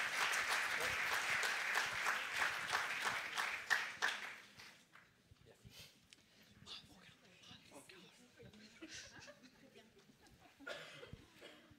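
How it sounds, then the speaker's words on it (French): An audience applauds award winners at a French-language conference of age-friendly cities, a dense burst of clapping for about four seconds that then fades into scattered claps and murmuring voices. "On les applaudit."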